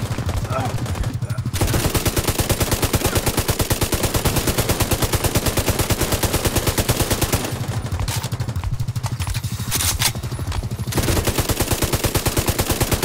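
Sustained automatic gunfire in The Division 2, a loud rapid rattle of closely spaced shots running nearly the whole stretch, broken by two brief pauses.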